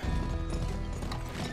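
Horse hooves galloping in the video game GUN, a dense, steady clatter of fast hoofbeats that runs loud and continuous throughout with no voices.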